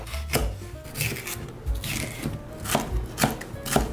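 Green pepper for jambalaya is chopped with a knife on a cutting board, giving a steady series of crisp, close thuds about every half second, with no talking.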